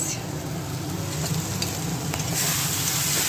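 Tempering fries in a pressure cooker with a continuous, even sizzle and faint crackles, close and steady, with no talking.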